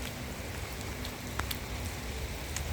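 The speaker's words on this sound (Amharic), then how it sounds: "አሁን ነው ዝናቡ እየዘነበ ነው" Rain falls steadily in an even, broad patter with a few sharper drop taps standing out, no voices.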